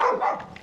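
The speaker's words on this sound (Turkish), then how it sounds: "İlk defa köpekler beni kovaladı bu bölgede" A dog gives a couple of quick barks, moderately loud and close, trailing off into softer yips.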